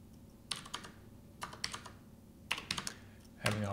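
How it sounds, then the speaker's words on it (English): Quiet bursts of typing on a computer keyboard, short clusters of key clicks separated by pauses, close to the microphone. "Having a hard time typing."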